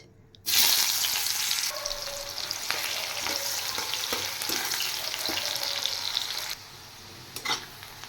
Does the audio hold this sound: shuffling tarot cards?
no